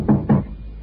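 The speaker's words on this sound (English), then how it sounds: "I knocked on Bertie's dressing room" Two firm knocks on a backstage dressing room door after a show, close and distinct, followed by a quiet room tone.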